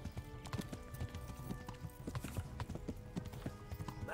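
Horse galloping in the medieval game Kingdom Come: Deliverance, rapid rhythmic hoofbeats pounding steadily throughout, close and clear with faint surrounding noise.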